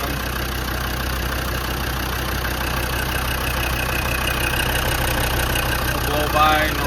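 A 1998 Land Rover Defender 110 with the Td5 diesel engine idles steadily close by, a constant even rumble that continues for the whole stretch with no revving.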